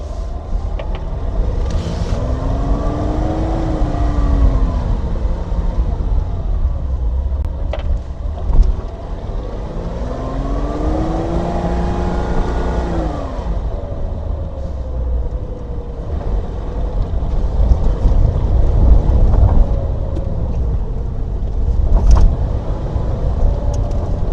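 A car drives steadily on an Easter Sunday, with a constant low engine and road rumble plus wind noise inside the cabin, and gear-like tones that rise and fall as it speeds up and slows.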